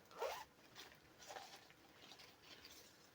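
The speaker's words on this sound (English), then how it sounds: "So let me pull out a measuring tape." A metal measuring tape is pulled out of its case in a few quiet, close, zipper-like rasps, the first strongest and the rest fainter.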